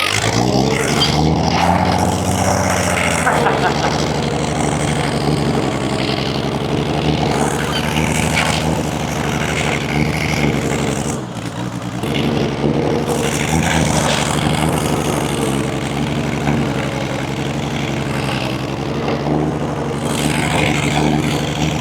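A homemade tree-farmer skidder with an engine and a worn transmission drones loudly and continuously while driving, its engine note holding steady with a brief dip midway, close up and with no talking.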